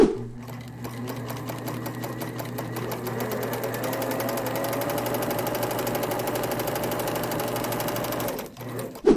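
An older Singer domestic sewing machine stitching stretchy knit fabric runs as a fast, even mechanical whir with rapid regular needle ticks, close and continuous for about eight seconds before stopping.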